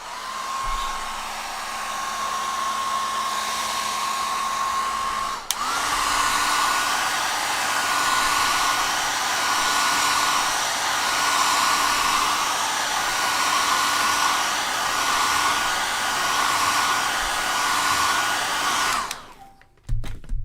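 A handheld hair dryer blows steadily on pen ink drawn on paper, a loud continuous whirring hiss with a steady tone, a brief bump midway as the setting shifts, then switched off at the end.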